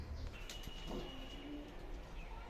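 Teddy pigeons coo faintly in a breeder's loft, with a low steady background hum.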